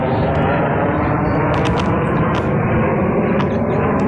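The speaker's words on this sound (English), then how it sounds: "here comes the helicopter." A steady, loud rumble of a helicopter passing overhead fills the whole stretch, a constant broadband roar with no break.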